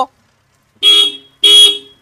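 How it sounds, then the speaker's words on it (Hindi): Two loud Honda Amaze car horn honks, each under a second, separated by a short pause, with a brief faint sound at the very start. "हॉर्न बजाओ"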